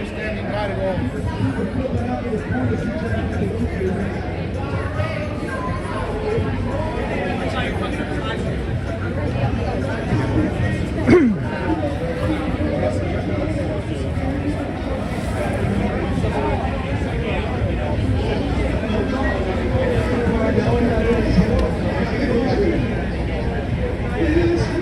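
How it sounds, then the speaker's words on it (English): Dense crowd chatter fills a busy New York City street on Memorial Day weekend, a continuous close babble of many overlapping voices with steady background noise throughout. "Man, crazy crowd."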